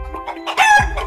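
A chicken clucks and crows loudly and close, a short rising cock-a-doodle call on its own with no talk.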